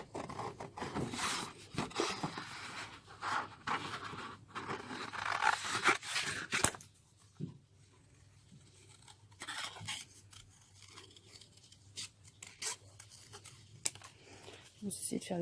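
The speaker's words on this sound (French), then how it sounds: "vous le découpez" Scissors cutting through pastel-coloured paper to shape a cloud background, close and soft with snipping and scraping, busier at first and then sparser, under someone speaking French.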